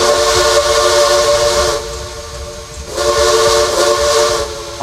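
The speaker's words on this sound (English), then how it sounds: "this engine has the Alco free chime whistle" Alco three-chime whistle on a consolidation steam locomotive in the Trainz train simulator game, sounding two loud sustained chord blasts separated by a short dip, each with a hissing steam edge.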